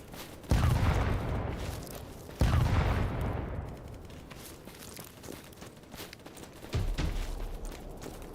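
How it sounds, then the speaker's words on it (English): Heavy booming bursts of video game gunfire hit in a few loud volleys, separated by quieter rustling and crackling, with no one talking. "I see some like gunfire coming from this direction"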